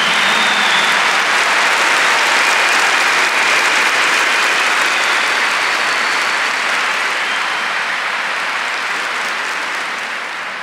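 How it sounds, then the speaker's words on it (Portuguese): Loud, sustained applause fills a large hall at a Catholic healing service, a thick continuous roar of clapping that slowly fades toward the end. "So let us begin the day by giving the Lord a big clap for the good news."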